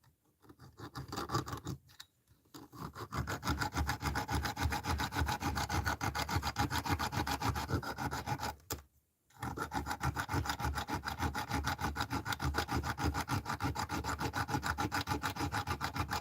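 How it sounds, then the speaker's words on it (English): A diamond wire rod saw rasps against a metal lock in continuous rapid strokes, loud and rhythmic, stopping briefly twice before resuming. "We'll switch it up to the slightly bigger diamond rod."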